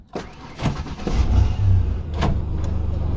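Old first-generation Ford Explorer V6 starting up, a few clicks and a short cranking whine before the engine catches and settles into a loud, steady idle close by.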